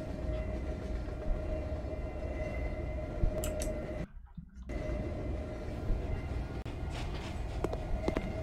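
A train rumbles steadily in a dark video game scene, a continuous low roar with a steady tone that cuts out briefly partway through, broken by a few faint ticks and clicks.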